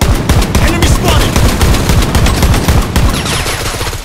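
Gunfire in the mobile shooter Project Blood Strike, a loud rapid automatic stream of shots in quick regular rhythm, close and sustained for several seconds with a brief easing near the end.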